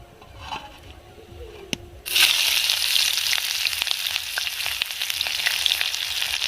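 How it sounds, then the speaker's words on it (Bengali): Onions for beresta fry in ghee over medium-low heat, a steady close sizzle that swells abruptly after a quieter start and carries on evenly with light stirring clicks. "বেরেস্তা ভাজার জন্য সবসময় আপনারা হালকা আঁচে বেরেস্তাটা ভাজবেন মিডিয়াম টু লো"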